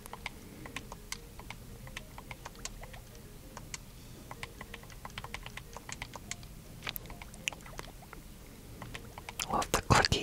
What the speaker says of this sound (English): Love the clicky D-pad sounds are one of your triggers, at least.